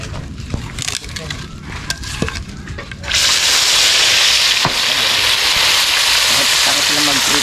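Biya fish drop into hot oil, and a loud, steady, crackling sizzle takes over after a few seconds of kitchen clatter and talking, then continues unbroken to the end.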